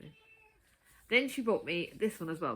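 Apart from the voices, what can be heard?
cat meowing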